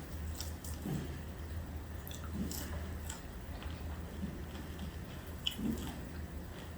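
Crunchy Jamaican ackee and saltfish fritters being bitten and chewed close up, with soft crunching bites recurring about every second or so over a quiet room background.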